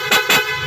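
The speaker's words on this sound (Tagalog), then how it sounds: "At yung tunog ng ating busina ay ulitin ko," Two short, loud blasts from a PIAA horn on a Honda Click i125 v3 motorcycle sound in quick succession, close up.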